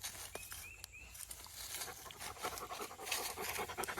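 Trooper, a farm dog kept as a work companion, pants softly and rapidly in a steady breathy rhythm close by, with a few faint high chirps early on and outdoor noise behind.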